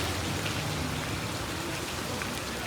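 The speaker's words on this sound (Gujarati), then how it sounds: "હળવો હળવો મિત્રો વરસાદ આવે છે" Light rain falls steadily outdoors, a constant, even hiss of drops with no breaks and no voices.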